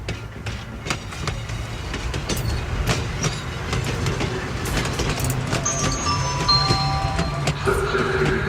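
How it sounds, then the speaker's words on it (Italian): An Italian E645 train pulls out of a station platform, its wheels clattering and rumbling in bursts of clicks, with rising squeals and tones from the running gear as it gets under way. "il treno E645 è in partenza al binario 2"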